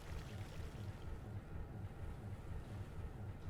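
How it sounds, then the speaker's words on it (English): A boat engine runs with its propeller turning in reverse in the Stormworks game, a dense, steady low rumble with churning water wash that holds evenly throughout. "Now the propeller is turning the opposite way."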